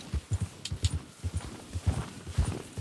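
A horse walking in the video game Red Dead Redemption 2, steady clip-clop hoofbeats close by in an even rhythm, with no speech.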